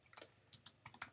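Quick, light keystrokes on a computer keyboard, about eight clicks in a short uneven burst, faint and close with no voices.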